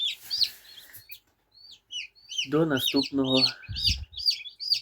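Shrill, repeated peeping from several newly hatched chicks close by, inside an incubator, with a short stretch of speech in the middle.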